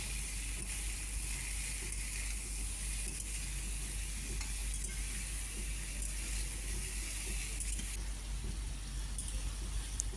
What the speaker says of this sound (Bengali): লবণ, হলুদ গুঁড়ো, লঙ্কার গুঁড়ো দিয়ে মশলাগুলোকে দিয়ে আবার ভালো করে কষিয়ে নেব